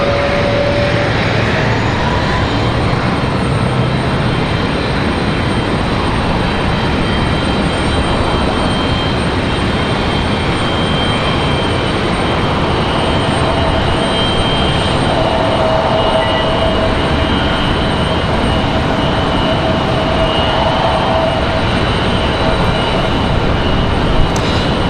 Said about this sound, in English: Do have a Frontier departure over here on 23 right.